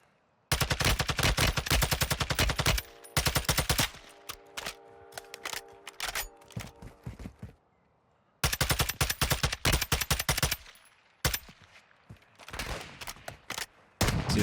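Dense bursts of automatic gunfire from Warzone 2.0, loud and close in long rapid volleys, with quieter scattered shots and short pauses between the bursts.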